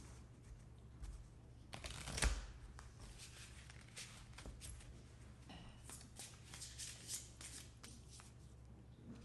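Oracle cards are shuffled and handled close up, giving soft papery riffles and flicks with one louder slap, all fairly quiet against a faint background hum.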